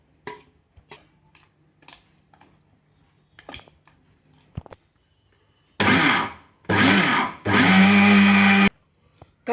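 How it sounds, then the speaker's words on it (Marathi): Pav bhaji masala spices are ground in a mixer grinder. Quiet clicks and handling come first, then three loud whirring bursts of the motor, the last one the longest, each cutting off sharply. "सगळं एकदा मिक्स करून घेऊ मिक्सरमध्ये"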